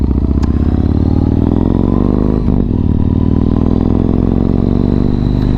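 A Yamaha MT-01 motorcycle rides on an open road, its engine a loud, steady, close drone with rushing wind throughout and a brief dip about halfway through.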